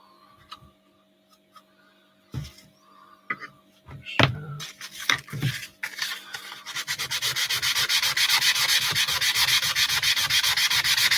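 A wooden Henson and Kermit cutout is sanded, starting with scattered taps and handling noises and then building into a steady, loud, rhythmic scratchy rubbing that continues to the end.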